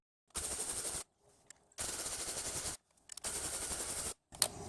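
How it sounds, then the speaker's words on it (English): Three loud, rapid mechanical rattling bursts, each under a second and separated by silence, as a spring compressor is driven down on a replacement strut spring from a Honda Accord or Acura TL/CL suspension; close and harsh. "Okay, so we're just going to keep torquing the spring down until we see the spring lift off the base of the strut mount."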